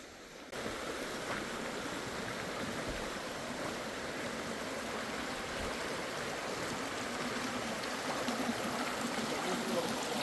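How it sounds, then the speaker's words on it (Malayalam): Clear, fast-flowing water near a very clean lake gives a steady, full rushing wash that holds evenly from start to finish at a moderate level, with no talk. "നല്ല ഒഴുക്കുള്ള വെള്ളം കേട്ടോ. അപ്പോൾ അതിൻ്റെ സൗണ്ടും ശരിക്കും ഒരു വൈറ്റ് നോയ്സ് എഫക്റ്റ് നമുക്ക് കിട്ടും."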